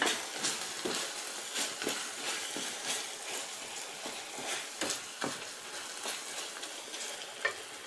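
Beetroot halwa with golden-fried cashews and raisins being stirred in a pan, a steady sizzle of frying under repeated scraping spoon strokes, fairly close and continuous with no voices.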